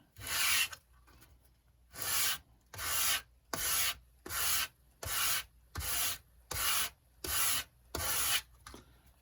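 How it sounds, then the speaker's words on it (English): Rhythmic sanding strokes, about eleven evenly spaced rasping passes of a model rocket fin's leading edge dragged across sandpaper, close up with quiet pauses between each. "combination of just dragging it across sandpaper and then using my rounding tool to finish things off"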